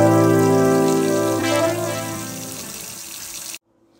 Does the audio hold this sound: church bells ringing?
no